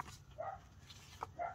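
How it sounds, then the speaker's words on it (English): A small dog barks a few quick yips at a distance, faint and brief against a quiet indoor room. "my little dog is off and barking again"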